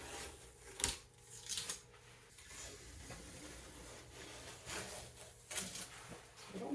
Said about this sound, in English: I'll pull the tapes off and see how horrible it looks.